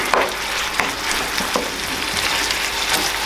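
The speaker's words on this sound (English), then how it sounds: "Meat's browning up pretty good" Meat browning in a pan gives a steady, close sizzle and fry with small pops and scraping stir sounds breaking through at intervals, no voices over it.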